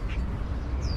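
Outdoor ambience with a couple of brief bird calls, one short chirp early and a thin whistling call near the end, over steady low rumble.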